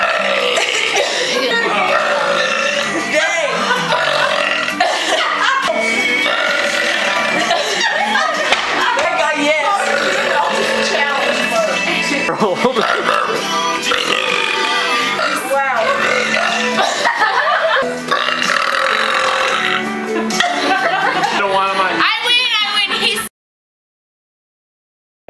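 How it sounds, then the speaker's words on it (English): Loud, repeated belching from girls in a belching show, rough burps following one another almost without pause over busy background sound, ending abruptly in silence. "I've never heard girls just belching constantly throughout the freaking day."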